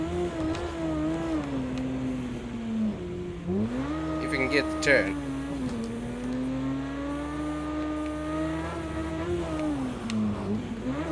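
An Aston Martin races on a dirt track in a racing game, its engine droning steadily and rising and falling with acceleration, with a brief burst of tire noise and someone talking over it.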